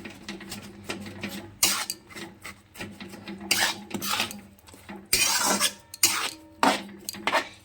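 A spoon stirs jaggery into a pan of cooked-down tomato chutney, giving close, rhythmic rasping scrapes in uneven bursts with brief quiet gaps between strokes.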